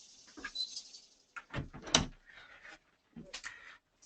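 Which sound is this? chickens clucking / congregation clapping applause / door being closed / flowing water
door being closed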